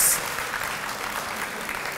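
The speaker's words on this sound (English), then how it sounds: "Can we give a round of applause for her being here?" Steady crowd clapping, a dense even patter of many hands sustained throughout at moderate volume, with no voices over it.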